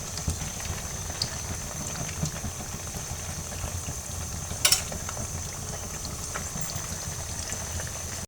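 Semolina and potato bites fry in oil over medium heat, a steady bubbling, hissing sizzle held at an even level throughout, with one brief sharp crackle midway.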